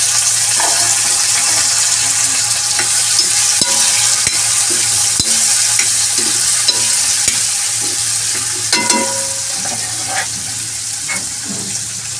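Chana dal and bitter gourd fry in a pan with a loud, close sizzle. A spoon scrapes and stirs in a steady rhythm throughout, and no one speaks.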